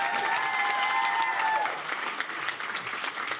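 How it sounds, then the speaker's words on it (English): Loud crowd applause from a live audience at a show, steady dense clapping with a few whistle-like tones early on, tapering slightly toward the end. "can we give them a round of applause?"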